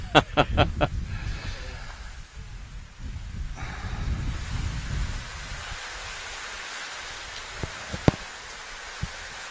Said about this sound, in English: the rain is timed perfectly